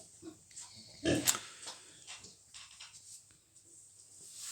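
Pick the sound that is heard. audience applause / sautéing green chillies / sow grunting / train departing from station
sow grunting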